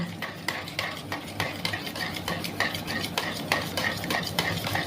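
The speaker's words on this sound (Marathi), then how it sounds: "हे दही आपल्याला फेटून घ्यायचं आहे दही आपण चांगलं फेटून घेऊ" Curd (yogurt) whisked briskly in a bowl with a spoon, a close rapid rhythmic clinking and sloshing that continues steadily throughout, with no talking.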